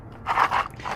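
Transmission pan bolts from a Toyota Corolla are scrubbed clean, giving a short, close run of two or three gritty scraping strokes with no talk.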